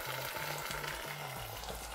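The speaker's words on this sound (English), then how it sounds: "onions, garlic in there. Once they've sweated off for about a minute or two and taken on a little bit of colour" Onions and garlic sweating in a pan for a tomato sauce, giving a steady soft sizzle with a low rhythmic hum pulsing underneath, no voices.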